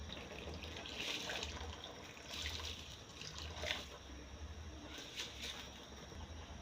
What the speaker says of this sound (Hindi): लें जी, हमारा जो पानी है वो उबलना शुरू हो गया।